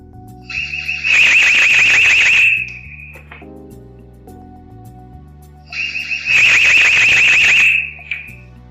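An EZVIZ TY1 2K security camera sounds its intensive-mode alarm on detecting presence: two loud, piercing electronic siren bursts, each lasting about two seconds, separated by a short quieter gap.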